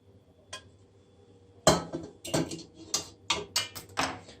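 Brewed olive leaf tea being strained after steeping ten minutes in hot water, heard as a series of small clinks and taps of a strainer against cups and dishes, faint and irregular, with no talk.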